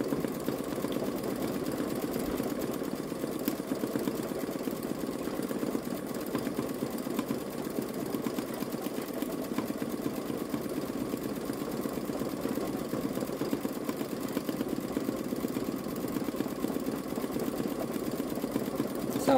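A Babylock Solaris Vision embroidery machine stitching an Easter design, a continuous, even mechanical hum with a rapid rhythmic needle chatter, steady and unbroken at moderate level, no talking.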